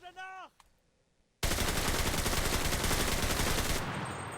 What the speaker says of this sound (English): light machine gun, basically holding down the trigger full auto